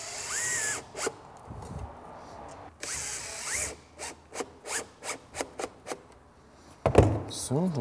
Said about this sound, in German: diese Endstufe hier aufs Holz drauf zu schrauben